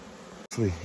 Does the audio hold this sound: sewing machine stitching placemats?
no